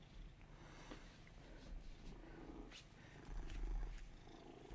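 A cat purrs softly nearby, a faint low rhythmic rumble that swells slightly toward the end, heard alone with no talking.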